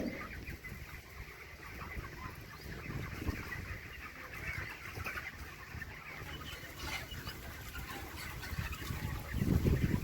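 Many broiler chickens cluck and murmur together in a large flock resting in a poultry farm, a busy, continuous chatter of birds at moderate distance.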